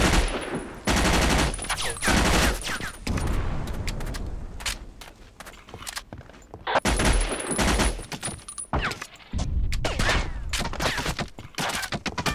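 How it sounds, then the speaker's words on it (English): Heavy gunfire in the video game Battlefield Vietnam multiplayer, with loud dense bursts of automatic fire and booming shots nearly continuous throughout, only brief gaps between volleys. "Heavy fire coming from that flag."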